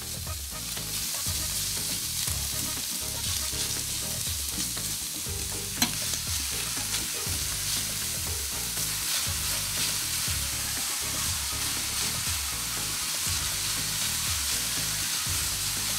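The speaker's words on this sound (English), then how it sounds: "we'll add the rest of our sausage here. And you want to make sure that you get this nicely browned." Sausage browning in a pan, a loud, steady sizzle with rhythmic stirring scrapes repeating every second or so, plus one brief sharp knock partway through.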